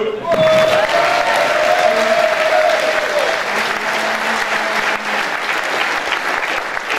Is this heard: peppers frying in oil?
no